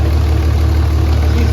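A Cummins diesel engine idles loudly and steadily just after starting, with a constant low rumble and a fast, even rhythmic pulse throughout a short close-up stretch.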